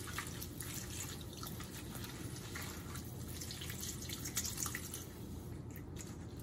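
Cold tap water runs steadily over salted greens being rinsed, a constant close splashing hiss with no talking.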